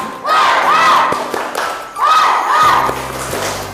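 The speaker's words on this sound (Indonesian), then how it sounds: "coba kita tepuk semangat dulu" A classroom group performs a spirit clap chant, loud voices chanting together in two rhythmic phrases punctuated by claps and thumps, close and lively.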